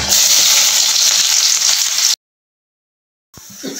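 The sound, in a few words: bay leaf, cinnamon and onion frying in oil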